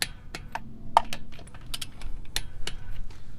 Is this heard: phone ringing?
no